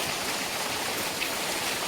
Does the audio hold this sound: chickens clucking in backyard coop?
no